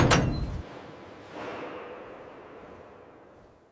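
Heavy factory doors closing and sealing: a loud sharp thud at the start, then a softer sliding rush that fades away.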